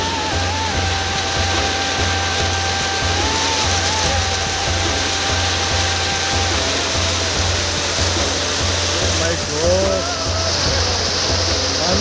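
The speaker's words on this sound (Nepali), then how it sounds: "पानी चाहिँ कडा छ है साथीहरू, पानी चाहिँ कडा परेको छ" Heavy rain pouring steadily in Nepal, a dense continuous wash of loud water noise with a low rumble beneath and no breaks, with no voices over it.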